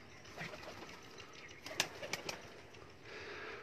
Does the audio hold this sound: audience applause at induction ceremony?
no